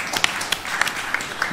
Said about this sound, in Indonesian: Terima kasih, kita tepuk tangan ini.